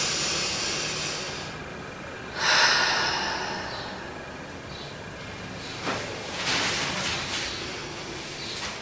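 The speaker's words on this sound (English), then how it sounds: "deep breath" One deep breath is drawn in sharply and let out slowly, close and audible, with quieter breathing afterwards against a soft hiss.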